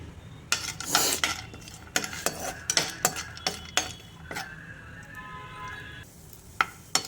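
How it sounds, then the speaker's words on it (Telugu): Half a cup of cashews frying in a spoonful of ghee in a pan for kaju fried rice, with loud clattering spoon-on-pan stirring strokes over a light sizzle and no talking. "ఇప్పుడు ఇందులో 1/2 కప్పు జీడిపప్పును వేసి ఫ్రై చేసుకుందాం."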